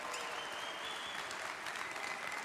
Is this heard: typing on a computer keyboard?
no